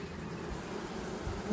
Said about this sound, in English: there's a lot of bees working it